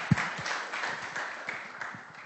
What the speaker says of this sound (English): let's give a final round of applause